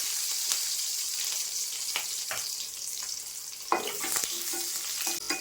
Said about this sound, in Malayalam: എണ്ണ ചൂടാവുമ്പോൾ നമുക്ക് കുറച്ച് കടുക് ഇട്ട് കൊടുക്കാം കടുക് പൊട്ടിയിട്ടുണ്ട്